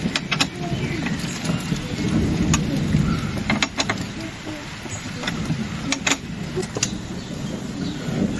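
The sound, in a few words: rain falling outdoors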